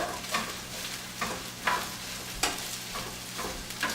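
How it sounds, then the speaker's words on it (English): Cabbage tossed in oil in a pan, a soft, steady sizzle broken by rhythmic scraping and stirring swishes about every half second, close and fairly quiet, with no talk. "I'm just tossing it around lightly just so that the oil covers the cabbage"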